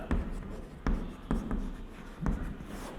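A pen writing on paper, with close, soft scratching strokes arriving in short bursts and small taps between them, fairly quiet with no speech.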